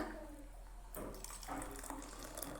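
About one and a half cups of water is poured into a bowl of ingredients for Kerala vattayappam batter: a quiet room, then a steady splashing pour that continues to the end.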